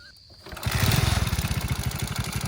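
A motorcycle about six or seven months old starts up in a Gujarati comedy sketch, catching after a quiet moment and settling into a loud, steady, rapidly pulsing engine run.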